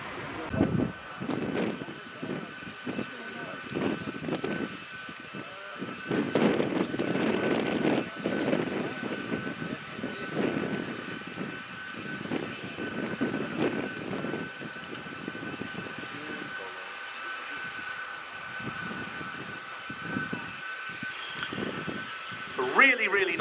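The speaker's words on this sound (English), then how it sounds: "Really nice demo, that helicopter with a lot of presence" Helicopter display flight at the RIAT airshow, a steady engine and rotor drone sustained throughout with bursts and swells as the aircraft passes, heard at a distance under crowd noise and occasional talk.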